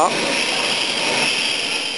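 A train pulling into a railway station, a steady broad roar with a high whine, loud and continuous, while a voice speaks over it.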